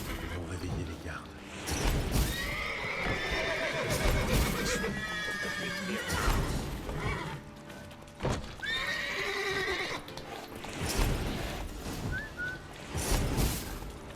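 Horses in The Witcher 3 whinny and neigh several times over clopping hooves and game ambience, the loud calls coming in bursts with pauses between.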